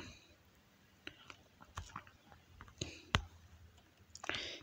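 Several sharp, quiet clicks spaced irregularly, like a mouse used while changing the color of a Google search widget on an Android phone, with soft breathy noise between them and no clear speech.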